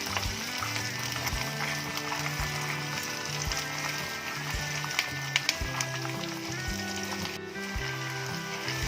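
Onion and garlic sauté steadily in a pan while making pirandai thuvaiyal, giving a soft continuous sizzle with faint stirring clinks and low background hum, no talking.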